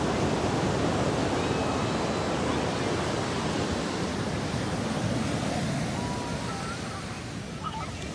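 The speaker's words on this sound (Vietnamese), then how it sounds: "Sóng lớn quá ha con ha." Big ocean waves breaking on a California beach, a loud continuous wash of surf and wind rumble that fades slightly toward the end, with no clear talking.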